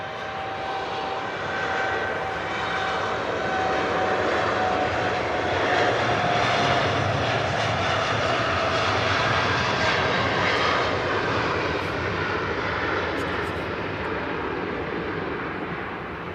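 Jet airliner climbing away from Manchester Airport, a steady, loud engine roar with a whining tone that holds throughout and fades slightly toward the end, no voices over it.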